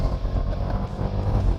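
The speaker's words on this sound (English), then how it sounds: "you hear the exhaust, but in an SUV like the Durango, the sound resonates through the cabin" A 2021 Dodge Durango Hellcat SUV engine revs hard in manual mode near 5,000 RPM, a loud, continuous, low exhaust roar heard from inside the cabin.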